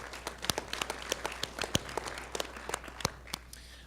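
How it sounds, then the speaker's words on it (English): Audience applause for an introduced aide at a violence prevention collaborative meeting, a scattered round of claps with sharp individual hits, moderately loud and without talk over it. "give her a round of applause"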